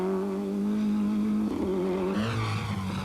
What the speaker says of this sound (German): Didier Auriol versuchte es mit einem Drift, das heißt, er wird die Handbremse kurz gehoben.